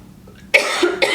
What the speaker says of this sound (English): Excuse me 1 second, I have to cough.